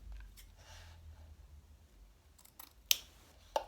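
Scissors trim decoration on a handmade shabby chic Easter basket with a couple of sharp, close snips near the end after quiet rustling.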